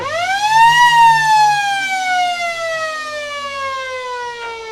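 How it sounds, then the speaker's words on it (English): A loud siren sounds at a country football ground to mark three-quarter time, rising in pitch and then holding a long, steady, slowly falling wail that carries across the oval. "As the siren goes for three-quarter time, Guy."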